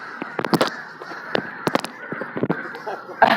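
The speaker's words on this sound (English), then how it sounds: "Bird invasion." A large flock of birds in Florida calling at once, with dense, overlapping harsh caws at close range, loud and constant, some calls standing out sharply above the rest.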